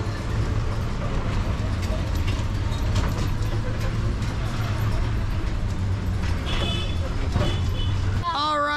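A vehicle drives slowly through the narrow streets of Amritsar, its steady low engine rumble continuous throughout, mixed with busy street noise and talking, and a brief horn-like tone near the end.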